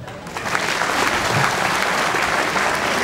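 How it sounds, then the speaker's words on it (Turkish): An audience at a Bitlis cultural promotion days event in Kağıthane breaks into loud, sustained applause, many hands clapping together for several seconds. "bir alkış istiyorum"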